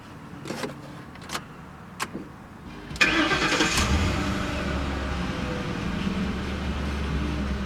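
A 2006 Ford Crown Victoria Police Interceptor is started after a few clicks and thumps from the cabin, then the engine catches and settles into a steady, close idle with no talking.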